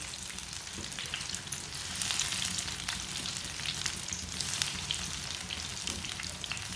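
Carrot kebabs fry in shallow oil as more oil is spooned over them, giving a steady, close bright sizzle with small crackles throughout and no voices.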